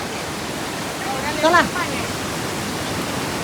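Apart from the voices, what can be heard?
strong water flow at Mandavkada waterfall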